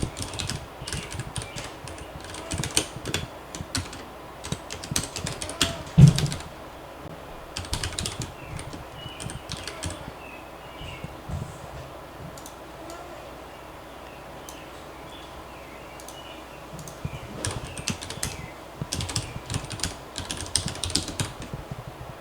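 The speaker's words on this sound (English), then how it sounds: "I'm just going to type without talking now." Steady typing on a computer keyboard, with irregular bursts of key clicks running through the whole stretch and a few louder taps, close and fairly quiet, with no one talking.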